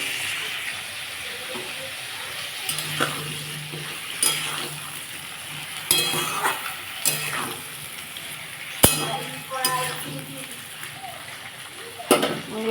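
Potatoes, tomatoes and onions sizzle in a pan for a fish curry, a soft frying hiss punctuated by irregular spoon clatters and scrapes, with intermittent speech.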